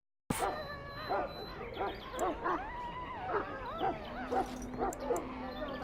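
A Mabari hound in Dragon Age: Origins gives a run of whimpering yips and short barks, repeated in an uneven rhythm over a steady musical game background.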